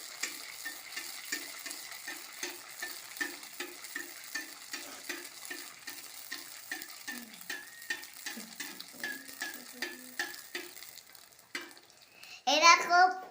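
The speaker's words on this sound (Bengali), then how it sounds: "এই কড়াইয়ে ব্যাটার চলে যাচ্ছে, দেখো কেমন ফুলছে, দেখে পাবে তোমরা। মা তেল ছিটি ছিটি ফুলছে।" Semolina and jaggery pitha batter fries in oil in a wok, with a crackling sizzle and a run of rhythmic, regular stirring or scraping taps, close by. A brief burst of voice comes near the end.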